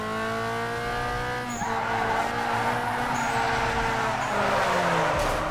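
Car drifting in the street-racing game Need for Speed Underground 2, its engine revving in shifting tones while tyres squeal and skid in a long rising screech, close and continuous.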